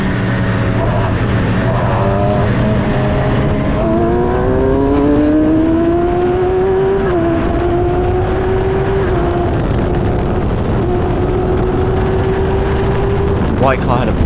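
F3 and F1000 race cars restarting on the Silverstone GP straight, one engine rising through gears with clean shift breaks, loud and close as from the cockpit, other cars faintly around it.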